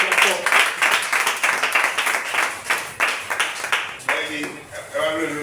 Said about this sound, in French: Acclame très fort le roi des rois